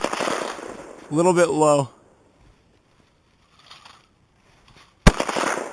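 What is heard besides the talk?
AR-15 rifle gunshots at outdoor range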